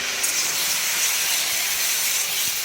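Water poured into a hot pan of sautéed Malabar spinach with turmeric sizzles at once, a loud, close, continuous steamy hiss that holds steady throughout with no voices.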